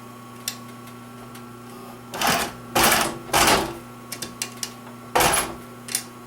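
A sewing machine stitches a crocodile-print bag in short separate bursts, three or four brief whirring runs with small clicks between, close and moderately loud in a quiet room.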